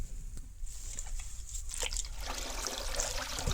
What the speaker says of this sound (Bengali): প্রথমে একটা গামলার মধ্যে জল দিয়ে এটা ধুইলিম